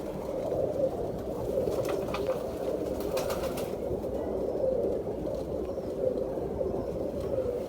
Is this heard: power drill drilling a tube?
no